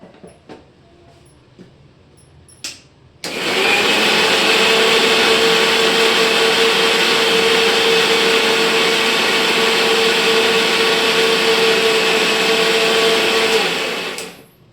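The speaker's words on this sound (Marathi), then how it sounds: "आपण त्याला बारीक करून घेऊया" A kitchen mixer grinder grinding masala spices, with a few clicks before the motor starts abruptly and runs as a loud, steady high whine for about eleven seconds before stopping.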